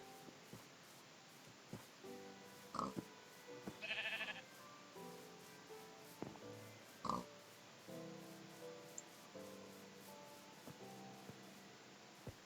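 Faint bleats from sheep in Minecraft, a few short calls scattered over a quiet background with soft clicks and bumps.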